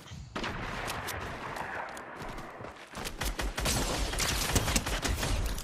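Video game gunfire: dense bursts of rapid shots crackle sharply throughout, growing louder and busier toward the end, with faint voices now and then.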